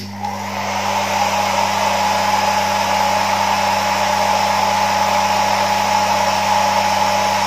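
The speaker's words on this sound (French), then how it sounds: "Un petit coup de sèche-cheveux, attention les oreilles." A hair dryer blows loudly and continuously, a steady whooshing hum close to the microphone with no pauses.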